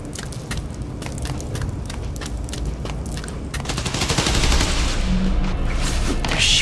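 Sustained automatic gunfire during a combat sequence in the Marvel's Spider-Man: Miles Morales video game, a dense rattling fusillade that swells louder toward the end amid booms and game action.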